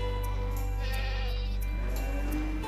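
Goats bleat on a farm, several wavering calls overlapping at close range over a steady low background hum.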